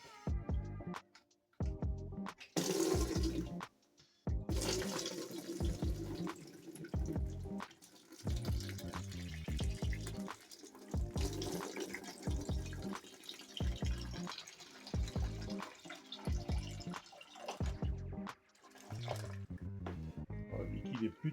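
Coolant drains and drips from a KTM 125 EXC engine during a cylinder and piston teardown, splashing in uneven bursts with clanks between and someone talking throughout.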